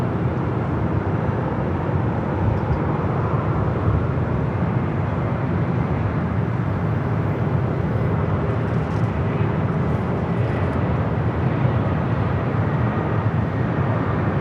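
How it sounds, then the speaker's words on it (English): A United Airlines Airbus A320 arriving at Los Angeles International Airport from Sacramento gives a steady, broadband jet roar that holds at a constant level with no clear rise or fall, and no voices are heard over it. "This is United Airlines 1759 coming in from Sacramento on the A320."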